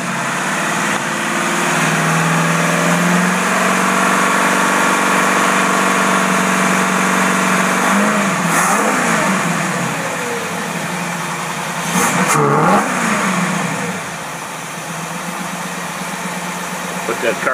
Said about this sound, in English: So this is coming in a little bit too soon, that's why it backfired.